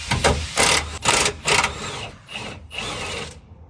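A ratchet loosens the bumper bracket bolts on a third-generation Toyota Tacoma during a rear bumper install. Several quick, loud clattering bursts follow one another over a few seconds, close up and with no talk.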